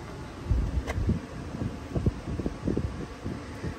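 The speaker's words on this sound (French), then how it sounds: "Parce qu'il commence à avoir un peu de vent" Gusty wind buffets an outdoor microphone beside a vehicle, a low rumbling roar that swells and drops in irregular bursts throughout, close and fairly loud, with no talk.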